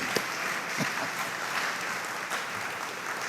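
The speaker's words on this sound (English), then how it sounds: "Can I get a round of applause for my grandson?" Audience applause at a city ribbon cutting for the Kaw Lake water treatment facility in Enid, honoring the mayor's grandson; steady, dense clapping from a crowd, moderately loud and continuous with no talking.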